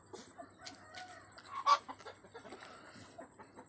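Brooding country hens cluck softly in a quiet farm setting, with a few short, scattered calls and one louder cluck near the middle, all without talk.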